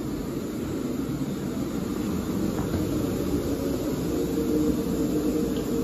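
Steady low roar of jet engines and cabin air fills a passenger plane during boarding, a constant broadband drone that stays even and close throughout, with no voices.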